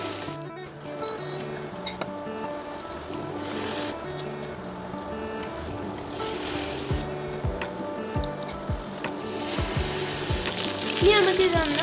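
Batter-dipped egg chammanthi frying in hot oil, a continuous crackling sizzle with bursts of spattering, close by, with clinks of utensils and background music.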